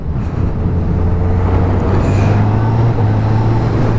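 A 2021 Honda CB1000R motorcycle rides with a loud, steady engine drone up close. Near the end the engine note briefly changes as the rider clicks up a gear with the quickshifter.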